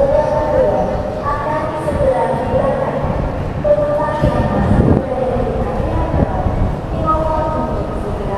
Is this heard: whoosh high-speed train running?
yes